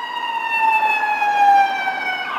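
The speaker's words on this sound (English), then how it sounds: "like this siren." A wailing emergency siren holds a high, slowly wavering tone, loud and continuous with no voices.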